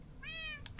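A single short cat meow from Minecraft, clear and close, followed by a couple of faint clicks.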